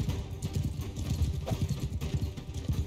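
Horses trot in rapid, continuous clip-clop hoofbeats during a Mount and Blade 2 Bannerlord battle, loud and close with no voices.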